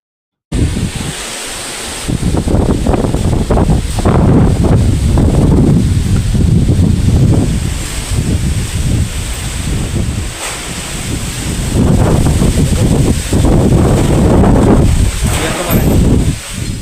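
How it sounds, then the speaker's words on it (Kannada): Strong, gusty wind roars and buffets the microphone continuously, rising and falling in loud surges throughout. "ಇವತ್ತು ತುಂಬ ಜೋರಾಗಿ ಬರ್ತಾ ಇದೆ ನೋಡಿ ಗಾಳಿ"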